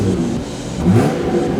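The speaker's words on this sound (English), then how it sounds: "I actually put a custom exhaust on this, but it was too loud." A Jeep Gladiator fitted with a custom exhaust and an added muffler revs steadily nearby, its engine note swelling midway and then holding as a muted, fairly low rumble with no talk.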